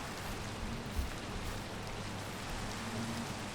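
Steady, even rain falling in the Minecraft video game, a continuous hiss of drops without pauses and no talking over it.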